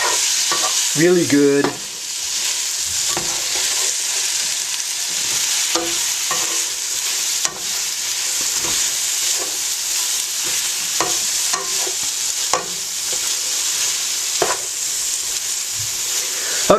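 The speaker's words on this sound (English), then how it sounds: "Pull the lid and stir these guys around." Vegetables for a curry frying in a pan, a steady sizzle with scattered scraping and clinking as they are stirred, close by; a voice speaks briefly near the start.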